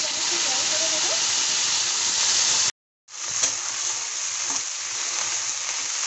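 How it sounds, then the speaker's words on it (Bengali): Halved okra pieces fry in hot oil in a wok with a loud, dense, steady sizzle that cuts out briefly partway through before resuming. "কড়াইতে তেল গরম হয়ে গেছে। গরম তেলের মধ্যে আমি ভেন্ডিগুলো দিয়ে দেবো।"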